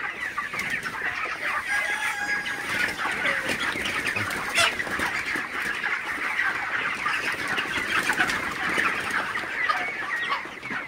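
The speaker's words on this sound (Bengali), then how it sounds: "আপনারা দেখতে পাচ্ছেন মুরগিগুলা মোটামুটি ভালো সুস্থ আছে" Broiler chickens in a poultry shed cluck and chatter continuously as a dense flock, many birds overlapping near and far with an occasional louder squawk, and no voices.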